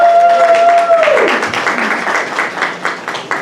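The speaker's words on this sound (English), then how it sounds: "Let's give another round of applause for our recipients." After a voice trails off, an audience at a student awards ceremony starts clapping, the applause building into a loose, moderately loud patter that continues to the end.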